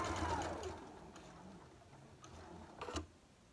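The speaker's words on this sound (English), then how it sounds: "I'm going to sew right along the edge" Sewing machine stitching quilt triangles, a soft steady mechanical whir with faint ticking that fades after the first second, followed by a quiet rustle and a brief louder clatter.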